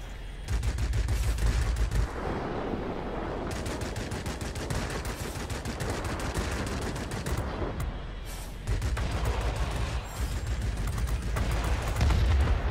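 Rapid bursts of Yak-30 aircraft cannon fire in the World of Warplanes combat flight game, loud and continuous with brief pauses between long strings of rattling shots.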